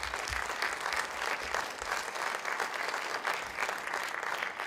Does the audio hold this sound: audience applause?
yes